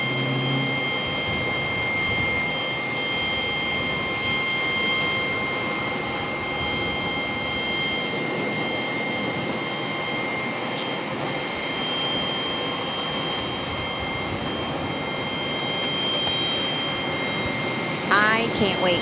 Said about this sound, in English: Here's our second E175 of the day.